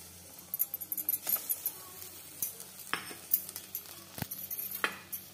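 Ground spice paste fries in a pan, a soft sizzle broken by frequent scraping strokes of a spoon and light clinks against metal, close but fairly quiet, without talk.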